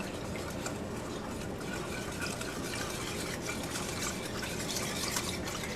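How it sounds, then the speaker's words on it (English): Worcestershire sauce pours into a barbecue sauce mixture, a faint, steady liquid trickle with soft splashing that continues evenly for a few seconds without any talk. "I'm going to add a teaspoon of Worcestershire sauce"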